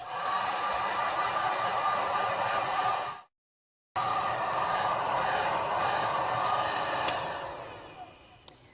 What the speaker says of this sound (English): Now I'm gonna once again take a heat gun to it, except this time low setting